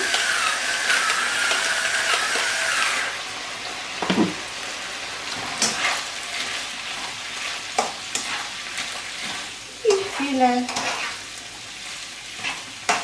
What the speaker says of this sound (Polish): smażymy, tak dwie minuty.